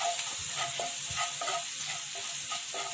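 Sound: frying and stirring in a pan

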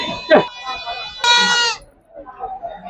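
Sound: male goats bleating at a goat market

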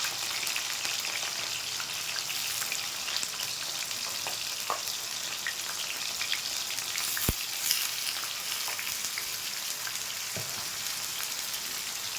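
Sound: cabbage frying in oil in a wok

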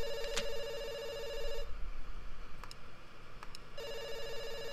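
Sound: telephone ringing in a video game

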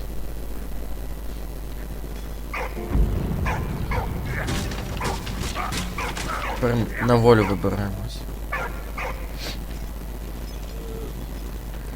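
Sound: dog barking and whimpering in Valiant Hearts video game

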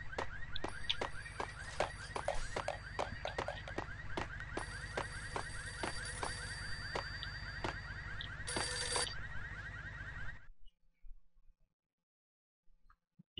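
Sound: telephone ringing in Max Payne video game

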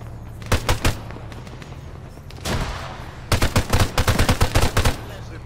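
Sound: gunfire in the video game Arma 3

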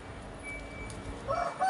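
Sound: chicken clucking

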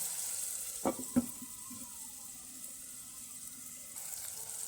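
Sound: sliced onions frying in a pan for prawn biryani

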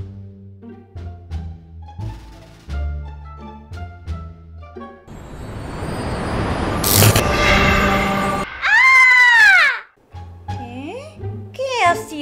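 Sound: scream in the video game PK XD

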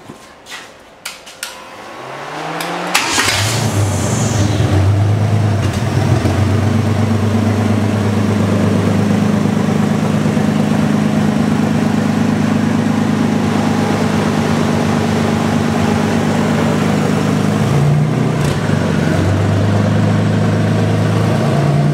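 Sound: 4.3L V6 engine starting and running on test stand

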